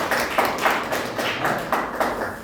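A church congregation claps together in a steady, even rhythm, with roughly three claps per second. The clapping is moderately loud and fills the room with no voices over it.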